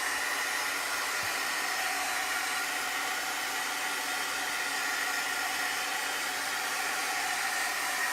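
A heat tool, used like a hair dryer, blows continuously to dry a chalk transfer, giving a steady, fairly soft hissing whir with no pauses.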